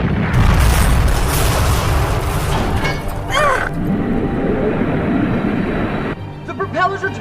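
Cannon fire in the Hunter x Hunter anime, a ship firing its barrage at a giant wave: heavy booming blasts rumble continuously with a rushing roar, a shouted voice cuts in briefly, then the sound cuts off abruptly.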